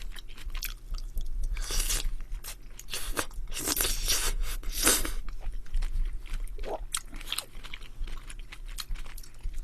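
Close, loud crunching as someone chews crisp bean sprouts, with steady bites and wet munching noises continuing throughout.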